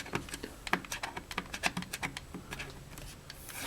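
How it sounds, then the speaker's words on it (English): Protective plastic film being peeled off a Honeywell WiFi Vision Pro 8000 thermostat display, a quick close series of small crackling ticks and pops that taper off, with no talking. "protective layer off here so we can see the display"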